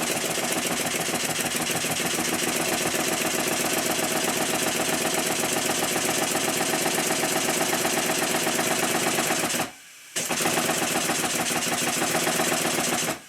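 A Stuart Triple model steam engine runs on compressed air fed into its high-pressure cylinder, with leaking glands. It chuffs in a steady, rapid rhythm, loud and close, with one brief pause near the end before it resumes.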